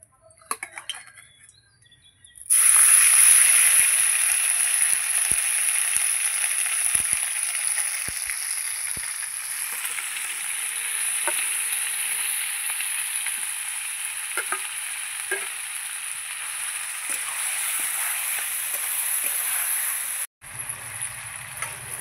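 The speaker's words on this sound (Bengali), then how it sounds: "এই যে মাংসটা আমি কড়াইতে দিয়ে দিয়েছি" Marinated meat dropped into hot oil in a wok sizzles loudly and steadily, with a short scrape of stirring and a few clinks along the way.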